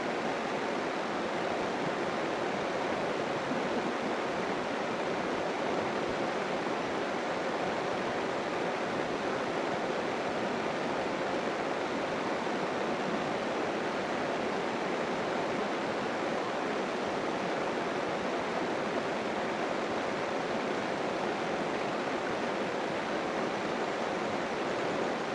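Flowing river water makes a dense, continuous rushing hiss, steady and close for the whole stretch, with no voices.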